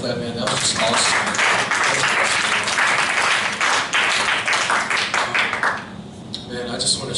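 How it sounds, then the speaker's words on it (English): Loud, dense audience applause and hand clapping fills a church leadership gathering, sustained for several seconds before thinning out toward the end, with voices mixed in. "Y'all give him another hand clap, man."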